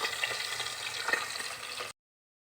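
Fish frying in a pan gives a steady close crackling sizzle with small pops, then cuts off abruptly into silence.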